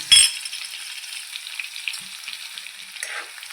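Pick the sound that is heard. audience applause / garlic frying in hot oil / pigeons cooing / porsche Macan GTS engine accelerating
garlic frying in hot oil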